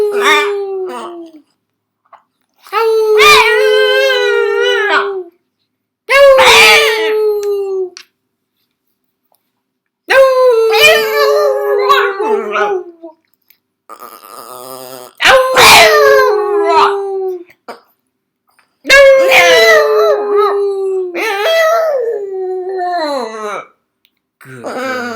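A dog howls on command in long, rising and falling wails, loud and close, repeated about six times with short silences between, with brief words from a person in the gaps.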